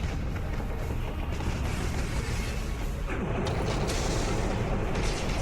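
Heavy booming starship cannon broadside fire in a video game, rolling continuously, dense low rumbles layered with crackling blasts, loud and sustained throughout.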